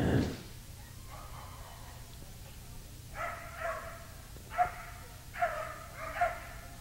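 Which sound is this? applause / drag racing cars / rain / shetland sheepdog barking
shetland sheepdog barking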